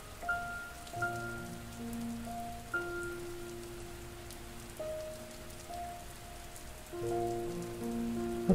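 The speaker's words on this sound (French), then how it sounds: "Le son de la pluie vous aide à nettoyer ce chakra et à vous libérer de tout ce" Soft rain patters steadily on a surface beneath sustained, calm tones of meditation music, the drops fairly faint and continuous.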